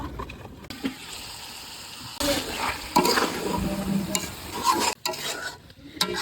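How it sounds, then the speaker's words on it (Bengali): Boiled potatoes are sautéed in a pan for samosa filling, sizzling under repeated stirring scrapes and clanks of the spoon against the metal, close by, with a lid clattering on near the end. "ঢাকনা দিয়ে ঢেকে দিয়ে কিছুক্ষণ আলুটাকে কষিয়ে নেবো"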